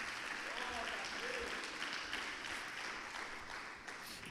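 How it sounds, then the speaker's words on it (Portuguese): A church congregation claps in sustained applause, a dense wash of hand claps with voices mixed in, gradually easing slightly toward the end. "Quem recebe, diga aleluia e aplauda o Senhor em nome de Jesus."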